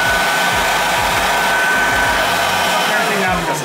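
A wet/dry vacuum cleaner runs continuously with a loud, steady roar and whine while cleaning an aquarium sump, held close and drowning out any other sound.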